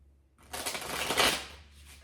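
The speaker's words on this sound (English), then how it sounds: "cards, and when I was shuffling" Deck of tarot cards being shuffled: a single soft riffling burst of paper flicking that swells, peaks and fades over about a second and a half, close and quiet with no talk.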